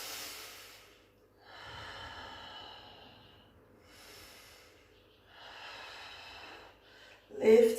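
Slow, deep breaths during a yoga stretch after a run, several long airy inhales and exhales spaced evenly and close by, ending in a sharper snort-like breath.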